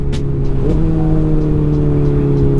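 A Kawasaki ZX-4RR motorcycle engine holds a steady, loud idle-like drone close by, with one brief rise in pitch, and no voices over it.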